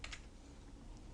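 A single key press, the F2 key, on a computer keyboard while entering data in accounting software: a couple of faint, quick clicks right at the start, then near silence.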